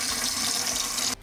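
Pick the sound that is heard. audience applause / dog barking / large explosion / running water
running water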